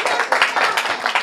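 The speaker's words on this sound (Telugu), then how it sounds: "ఒకసారి ఇంకోసారి గట్టిగా క్లాప్స్ కొట్టాలి" An audience at a Tori Radio New Year 2019 celebration claps in quick, uneven bursts, a short run of lively applause close by.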